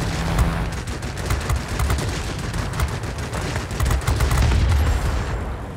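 Aircraft cannon fire from a warplane in the World of Warplanes video game, a dense continuous stream of rapid gunfire bursts over a steady engine roar, loud and close throughout.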